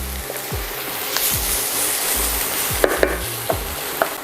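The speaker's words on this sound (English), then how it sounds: "I'm just gonna stir that up for about 30 seconds." Garlic and vegetables sizzle steadily in a hot pan for a shepherd's pie, with a continuous frying hiss broken by a few sharp scrape-and-tap sounds of stirring, close and with no talking.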